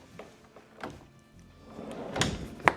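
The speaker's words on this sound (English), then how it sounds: "my favorite pocket door" A pocket door in a Florida home slides along its track with rolling rumbles and a few knocks, ending in a sharp thud as it stops, fairly close with no talking.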